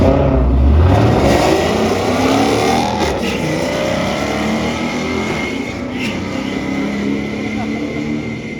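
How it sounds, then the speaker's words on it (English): A loud Shelby GT350 drag racing car engine roars down the track, its pitch sweeping as it accelerates away, with a dense rumbling drone that gradually fades slightly. "They sound so good going down the track"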